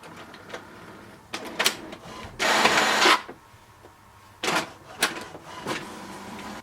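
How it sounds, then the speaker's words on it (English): An HP Deskjet 3700 inkjet printer printing a network configuration page, with short mechanical whirs and clicks, a louder sustained motor whine as paper feeds through, then further intermittent servo buzzes close to the microphone. "Now the printer has printed a page here."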